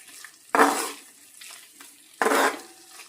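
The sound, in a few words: stirring pork liver fry in a pan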